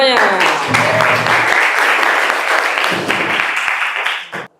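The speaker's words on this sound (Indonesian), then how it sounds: "tepuk tangan buat kita semuanya." Students in a classroom break into loud, dense applause that holds steady for several seconds, then thins and stops abruptly, with a voice briefly audible beneath the clapping.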